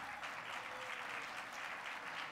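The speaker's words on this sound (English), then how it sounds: "Big round of applause." Steady applause from an audience at a gala awards dinner, held at an even level throughout the short stretch with no voices standing out.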